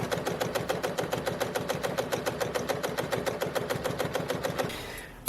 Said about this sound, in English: So now I'm just going to go on my machine, get my buttonhole ready